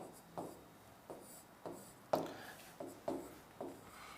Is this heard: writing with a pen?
yes